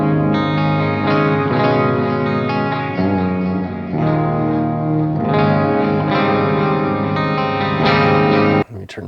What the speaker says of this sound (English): Let's throw on some delay and some reverb.